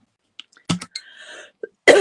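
A couple of short, sharp coughs and a throat clear, close and isolated, with small sounds between them.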